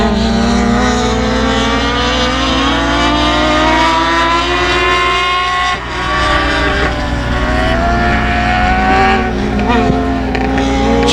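Race cars roar steadily at 281 Speedway as green flag racing resumes, a loud, dense drone of engines with rising and falling pitches from several cars and a brief dip near the middle, with an announcer talking over it.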